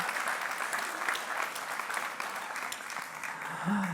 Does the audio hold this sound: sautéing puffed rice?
no